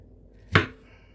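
A single sharp knife chop cuts through a tomatillo on a cutting board, one close, brief thud-crack standing alone against a quiet room.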